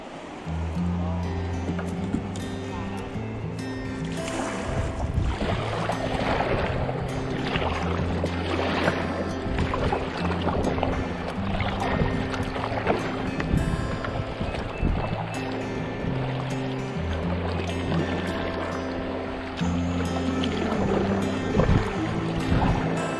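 River water rushes and churns around a kayak on a fishing trip, a steady close roar that fills the whole stretch while someone talks over it.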